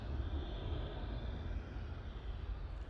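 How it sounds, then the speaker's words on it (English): An Embraer E175 airliner climbs out slowly after takeoff from Bristol Airport, sounding heavily loaded, giving a steady, broad jet engine roar that holds constant and fairly loud throughout with no talk over it. "slow climb out for the Embraer E175. She sounded heavy as well"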